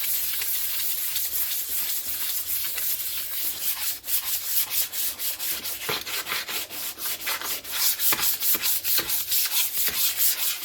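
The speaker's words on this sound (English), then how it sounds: "as you can see with a sanding block" Steady rhythmic rasping of a sanding block scrubbed back and forth over a metal double bass bending iron, close up, with no talking.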